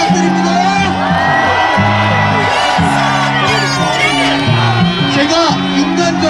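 A loud crowd at a Korea University student rally roars with shouting, whoops and cheering, many voices rising and falling together in rhythmic bursts, close and continuous across several seconds.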